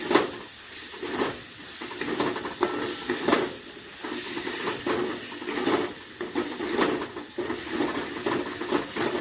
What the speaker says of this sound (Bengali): স্লাইট একটু জল দিয়ে মশলাটা আমি কষাবো এখানে